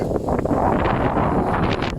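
Wind buffets the microphone outdoors while mushrooms are being gathered after work, a loud, steady rumbling roar that fills the whole stretch without any talk.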